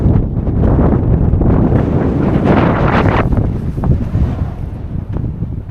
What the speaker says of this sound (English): Can you hear how windy this place is?